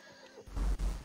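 A horse in the video game Red Dead Redemption Online gives a short, loud whinny that breaks off in the middle, heard alone after a brief quiet moment.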